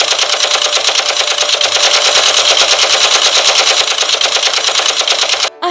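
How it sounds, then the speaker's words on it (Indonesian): Rapid, loud bursts of enemy rifle fire crackle continuously as a gunfire sound effect, a dense rattling volley that ends abruptly, with no voices. "Mertuanya mengira itu adalah suara letusan senapan atau bodil musuh."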